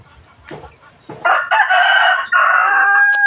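After a couple of soft sounds, a nearby rooster lets out a single loud, drawn-out crow in a few segments.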